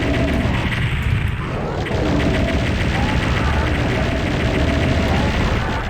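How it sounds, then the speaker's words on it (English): A plasma rifle fires at Hell Knights in the 1995 PlayStation Doom, a loud, continuous stream of rapid energy shots with booming hits underneath, dense and close for the whole stretch. "I'm going to pull out a plasma rifle"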